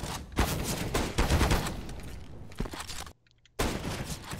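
Rapid bursts of automatic rifle fire in the shooter game CS:GO, several loud volleys in quick succession, broken by a short silent gap before another burst, with no talking.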